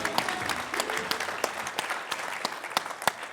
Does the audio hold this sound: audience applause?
yes